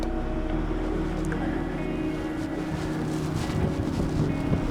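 Steady, heavy wind buffets the microphone throughout at the Ring of Brodgar in Scotland, a continuous low roar with gusty rumble and no voices.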